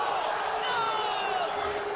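Spectators at a Bryant University at Mount Saint Mary's men's college basketball game voice their displeasure at a call, a loud continuous roar of shouts and boos filling the arena.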